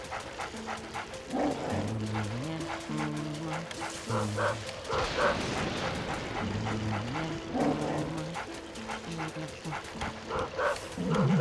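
A ghost dog barks repeatedly in the GameCube video game Luigi's Mansion, rhythmic yips over game music, with a voice talking over parts of it.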